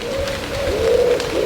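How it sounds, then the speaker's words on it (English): Pigeons coo by a moored canal boat on the Kennet & Avon Canal, a low repeated warbling call close by, running continuously against quiet outdoor background. "you can hear all the pigeons"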